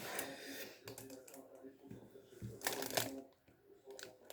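A cardboard butterfly-style box being opened by hand, with a series of quick papery rustles, flaps and small snaps close by, busy and irregular without speech.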